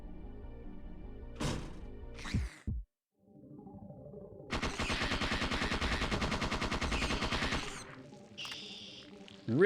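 Gunfire from the PS1 survival horror game Parasite Eve 2, a sustained rapid burst of automatic shots in the middle, fairly faint, framed by electronic game effects and tones.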